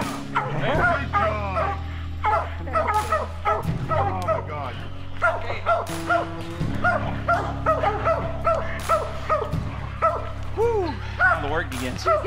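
Hunting hounds bark and yelp rapidly and continuously at a bear, several dogs overlapping close by in a frantic chorus, with people talking in the background.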